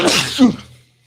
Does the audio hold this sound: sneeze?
yes